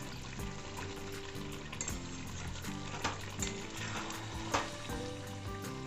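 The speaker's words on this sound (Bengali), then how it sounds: "মটনটি আমি 10 মিনিট ধরে কষিয়ে নিচ্ছি।" Mutton for kosha sizzles steadily in hot oil while it is stirred, with bubbling and crackling throughout and occasional sharp scrapes and clinks of the spoon against the pan.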